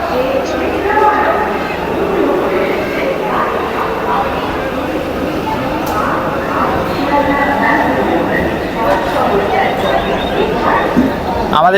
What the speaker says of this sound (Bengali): ট্রেন কিন্তু ঢুকে গেছে দেখতেই পাচ্ছ তোমরা